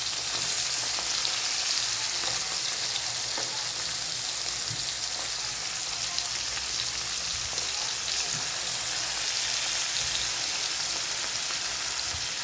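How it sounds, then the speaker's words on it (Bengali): Fish pieces fry in hot oil in a wok, producing a steady, moderately loud crackling sizzle that continues evenly with a few small pops and no talk. "এবার আমি মাছগুলিকে ভেজে নেব।"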